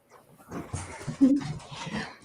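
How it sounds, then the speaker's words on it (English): Puppies up close, yipping and whimpering in short overlapping bursts with one sharper high whine in the middle. "So the puppies have been quiet this whole time, right? Now they're just running wild."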